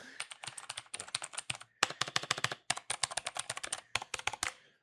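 A wireless computer keyboard is typed on in quick bursts of crisp, close key clacks, with short pauses between runs of keystrokes.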